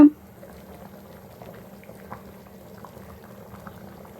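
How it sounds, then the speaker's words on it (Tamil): A pot of Sankara fish curry simmers and bubbles softly and steadily, a quiet continuous burble after a brief sharp knock at the start. "ஒரு 10 நிமிஷம் வந்து நல்லா குழம்பு கொதிக்க விடலாங்க"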